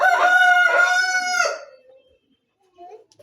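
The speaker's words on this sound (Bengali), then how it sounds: "ওই যে মুরগি।" A rooster crows loudly and close by, one long cock-a-doodle-doo that fades out, followed by a short faint sound after a pause.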